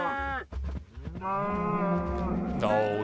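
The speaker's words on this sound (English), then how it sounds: "Where are my cows?" Cows moo in a video game, two long drawn-out lowing calls close by with a short break between them.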